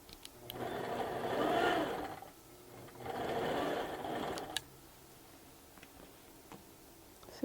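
A sewing machine stitches fabric in two steady bursts of close, rapid mechanical chatter, with a pause between them and a quieter hum and clicks afterward.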